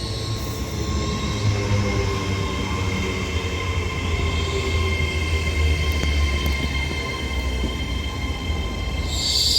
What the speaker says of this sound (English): This Avanti West Coast Class 807 arrives into Runcorn now with the 1444 Avanti West Coast service to Liverpool Lime Street from London Euston.